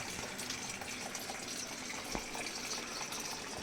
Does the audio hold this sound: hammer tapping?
no